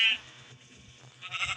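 A goat in the video game Minecraft bleats in two short, wavering cries, one at the start and a louder, longer one near the end, over a quiet game background.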